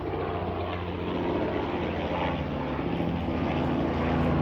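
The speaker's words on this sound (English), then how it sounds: "wait for the helicopters to go over" A continuous, steady engine drone of helicopters passing overhead in Chelmsley Wood, loud and close, with no voices.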